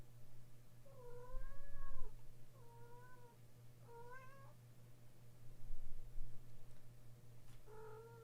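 A cat meowing several times up close, drawn-out wavering cries spaced a second or two apart over a low steady hum, with no talking.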